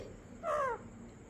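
A single short, loud caw from a pet parrot mimicking a crow, close by against a quiet room background.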